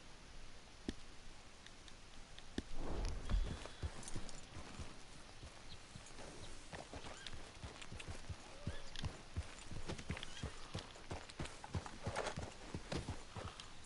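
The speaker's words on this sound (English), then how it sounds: "I'm going to take him to the horse stables now. Alright, let's get him. Oh, he's making sounds and all that, Scott." A horse walks across the countryside in the video game Red Dead Redemption 2, its hooves clip-clopping steadily and faintly with occasional small clicks, and a brief neigh may be heard, with almost no talking.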